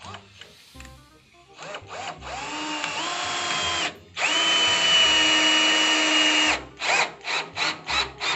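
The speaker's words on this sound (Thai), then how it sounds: "แล้วเรามาทำการ ยิงน็อตลงไปเลยนะครับ ไปที่เนื้อไม้เลยนะครับ" A cordless drill drives a screw into wood without a pilot hole, a long whining run with rising motor pitch, then a series of short rapid bursts as the screw seats flush into the timber.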